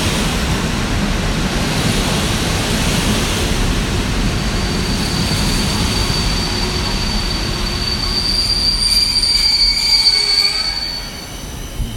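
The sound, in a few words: EIC Ondraszek train at Katowice station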